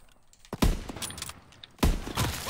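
Gunfire in Call of Duty WW2 during a 1v1 online match: two sharp, loud shots about a second apart, each with a short echoing tail.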